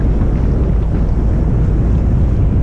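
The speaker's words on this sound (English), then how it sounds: "And there's 21 knots of wind." Steady, loud wind roars across the microphone at sea on a solo sailing voyage from France toward the Shetland Islands, arriving at Cherbourg in 21 knots of wind, with a dense low rumble of boat and water beneath it.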